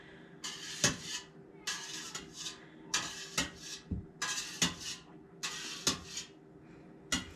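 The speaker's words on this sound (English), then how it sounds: "So I just kind of put the wire whisk up and down all the way around." A wire whisk moves gently up and down through raw milk curds in a pot, making repeated soft scraping and clinking strokes against the pot in an irregular rhythm, close and fairly quiet.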